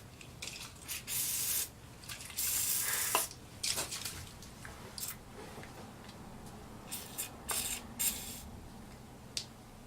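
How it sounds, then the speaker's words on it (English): Lubricant sprayed from an aerosol can onto a part of a Craftsman snow blower, several short hissing bursts of varying length, close up and separated by brief pauses. "Get a lubricant on there."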